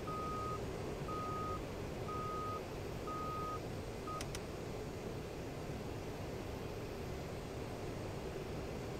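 Master warning alarm in the AJS37 Viggen flight simulator, sounding as a steady series of short, evenly spaced electronic beeps over a constant loud cockpit engine rumble, with a brief tone burst near the end.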